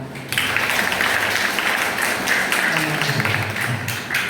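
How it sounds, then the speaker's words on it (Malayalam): An audience at a community event honoring daughters and daughters-in-law in Munambam Velanka claps together in a sustained, dense burst of applause lasting several seconds, with a murmur of voices underneath. "ഞാൻ ക്ലാപ്പ് ചെയ്തിട്ട് നിങ്ങൾ എല്ലാവരും ഒരു ക്ലാപ്പ് ചെയ്യാമോ?"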